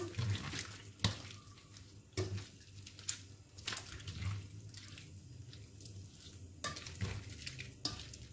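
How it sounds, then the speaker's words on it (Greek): Tortelloni with olives and shrimp stirred in a pan, with soft scraping strokes and a low sizzle, several sharper utensil knocks against the pan scattered through. "Ανακατεύουμε και πάλι."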